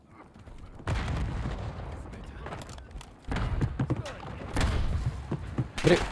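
Gunfire crackles in the battle royale video game Warzone as scattered shots and short bursts thud at varying distances. A player talks over the shooting.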